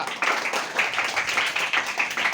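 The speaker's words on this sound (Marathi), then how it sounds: "साक्षीसाठी जोरदार टाळ्या" A group of students claps loudly for a classmate named Sakshi, a dense and continuous burst of hand claps close by, with no talking.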